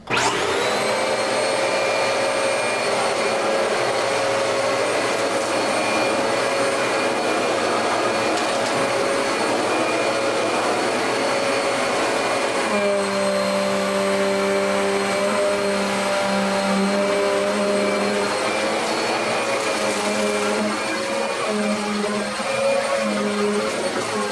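A Prolux Phantom upright vacuum cleaner runs continuously at close range with a loud, steady whine, and its pitch shifts partway through, with no talk.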